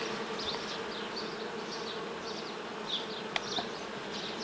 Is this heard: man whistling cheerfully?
no